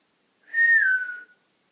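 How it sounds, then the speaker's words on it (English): A single sustained human whistle, one clear tone that slides gently downward and fades out after about a second, heard alone in quiet. "Good, that was a whistle."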